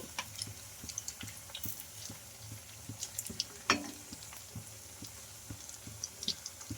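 Wheat rava vadas frying in hot oil give a steady low crackle and sizzle with faint scattered ticks as they are turned, quiet and close, with no talk.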